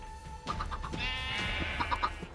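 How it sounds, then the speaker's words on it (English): Sheep in the video game Minecraft bleat in a couple of short, wavering calls, fairly clear against a quiet game background. "The sheep have been breeded up a couple of times"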